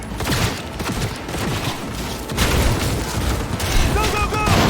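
Sustained gunfire in Cyberpunk 2077, a dense fusillade of overlapping shots and impacts, loud throughout with a voice talking partway under the din.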